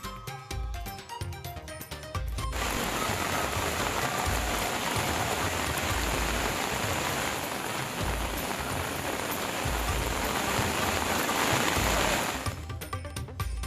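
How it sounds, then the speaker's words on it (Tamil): Heavy rain pours at Tirumala, Tirupati, a dense, steady roar of water on surfaces that starts abruptly after a couple of seconds and holds loud and constant before easing near the end. "திருப்பதி திருமலையில் 4 மணி நேரத்திற்கு மேலாக வெளுத்து வாங்கிய கனமழை."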